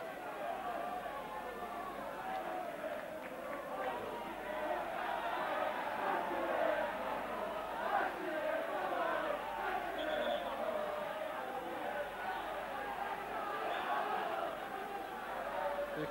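A shirt-sleeve football stadium crowd at the Falkirk v Rangers match in September 1991: a steady, distant murmur and roar of many voices that swells slightly now and then.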